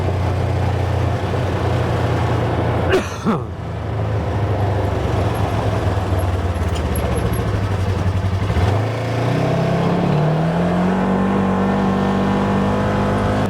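A Polaris Trail S 1000 side-by-side covered in Kentucky mud is ridden along, its engine droning loudly and steadily close by, with one brief dip and a later rise in pitch as it picks up speed.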